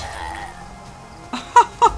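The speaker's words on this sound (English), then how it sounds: "Dog burp." A dog character burps in the hidden-object game Mystery Trackers, two short gulping bursts near the end after quiet game ambience.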